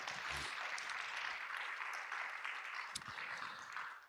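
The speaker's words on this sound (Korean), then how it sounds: "다시 한번 큰 박수 부탁드리겠습니다" Audience applause after a university alumni talk session, an even, continuous patter of clapping, quiet overall and fading slightly at the end, with a brief thump or two.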